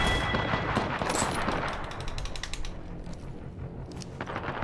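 In the battle royale game Apex Legends, gunfire rattles in rapid bursts, with a dense opening volley easing into quieter, scattered clicks and shots, all fairly faint and with no talking.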